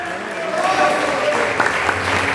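A church congregation clapping during a service, rising applause layered under a voice speaking over it, with a few sharper claps toward the end.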